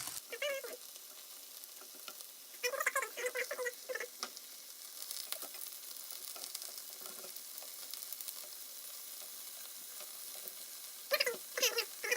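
Turned tofu pieces fry in a pan with steady sizzling and soft crackle, broken by a few louder bursts of spitting oil and stirring scrapes, close and moderately quiet, no talk.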